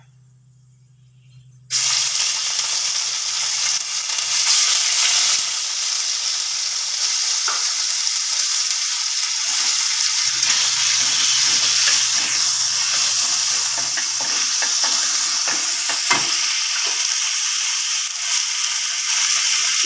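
Ginger paste, following a few seconds of frying garam masala and spices, sizzles loudly and steadily in hot oil from a sudden start, with occasional scraping and stirring clicks and no speech.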